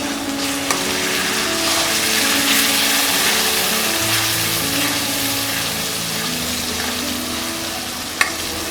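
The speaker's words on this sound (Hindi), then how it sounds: "मसालों को हम लो फ्लेम में फ्राई करेंगे।" A spice masala of tomato, green chili, ginger and cashew paste fries over a low flame, giving a steady, even sizzle that runs unbroken with a single sharp clink near the end; no one speaks.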